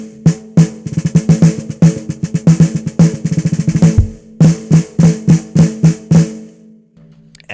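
A drum struck repeatedly with its bottom head tuned loose, sounding as a series of close, loud, ringing hits in quick bursts with a low boomy body, fading out at the end.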